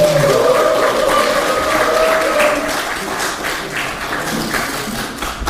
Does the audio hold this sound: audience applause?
yes